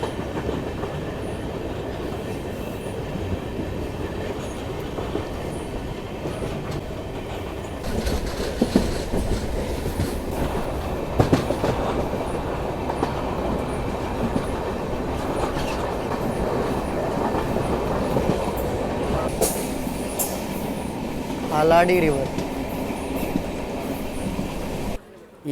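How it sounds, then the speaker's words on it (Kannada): The Matsyagandha Express from Mangaluru to Mumbai, running on LHB coaches, rumbles steadily over a river bridge with rhythmic clickety-clack and brief wheel squeal near the end, while a voice speaks briefly. "ಮಂಗಳೂರಿಂದ ಮುಂಬೈಗೆ ಹೋಗುವಂಥ ಮತ್ಸ್ಯಗಂಧ ಎಕ್ಸ್ಪ್ರೆಸ್ ಈಗ ಕ್ರಾಸ್ ಮಾಡತ್ತೈತೆ ರೀ ಪಂಚಗಂಗಾವಳಿ ನದಿನ"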